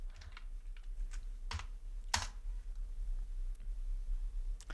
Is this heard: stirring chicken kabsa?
no